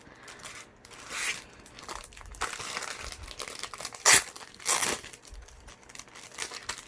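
A wrapped package is torn open close by, with crinkling plastic and paper rustles in irregular bursts and a few sharper rips, alone without speech.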